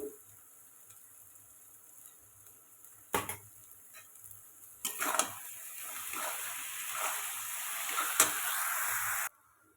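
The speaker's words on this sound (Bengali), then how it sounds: "আমি এখন ভাতটা দিয়ে দেব" Cooked rice added to a pan of melted sugar for fried rice, with a couple of thumps as it goes in, then a growing, steady sizzle and stirring scrape that runs until a sudden stop.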